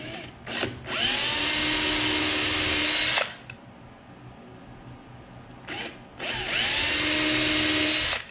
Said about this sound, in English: I'll drill that with a little 1/16 inch drill bit